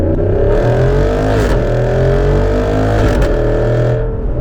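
A loud 2023 Jeep Wrangler 392 V8 pulls away from first gear, its deep engine roar rising in pitch through the run, close and dominant with no talk.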